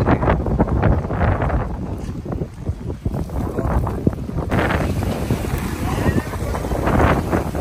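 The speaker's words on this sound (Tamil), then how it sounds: "செம்ம காத்து அடிக்குதுப்பா." Strong wind buffets the microphone in loud, uneven gusts of roaring noise, continuous and close throughout with no pauses.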